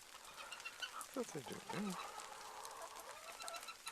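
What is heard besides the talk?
hens clucking in the snow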